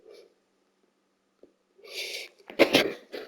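A single loud sneeze up close, preceded by a quick sharp inhale, then a brief breathy aftermath.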